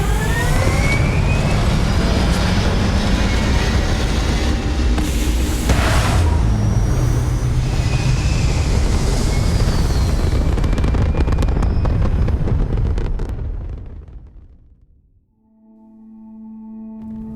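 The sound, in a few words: spaceship thrusters firing, from the video game Starfield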